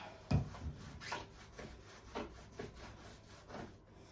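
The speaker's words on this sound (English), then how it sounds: "I'm cleaning up spilled cough syrup." Quiet, repeated rubbing strokes scrubbing sticky spilled cough syrup off a bathroom counter, irregular and close, with one louder thump near the start.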